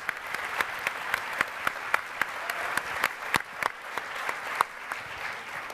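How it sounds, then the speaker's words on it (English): A panel discussion audience in Los Angeles gives a round of applause: scattered, distinct claps at moderate distance, steady across the whole stretch without voices. "that gets a round of applause"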